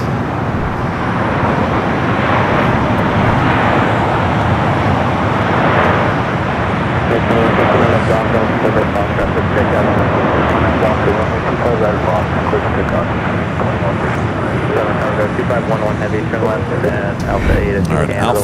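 A year-old Boeing 777 freighter from Shanghai arrives at LAX, a steady loud broad roar of jet engines and rushing air that persists throughout, with a voice talking over it.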